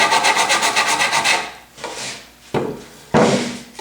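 Sandpaper wrapped around a scrap of wood scrubs the corners of a wooden harp, first as a quick rhythmic rasping of even back-and-forth strokes, then as a few slower, separate scrapes.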